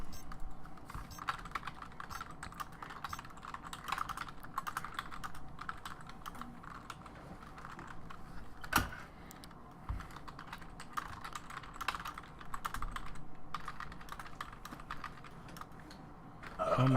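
Steady, fast typing clatters on a wireless computer keyboard during a video game session, a dense run of light key clicks at close range with a few louder thumps, at low level and without speech.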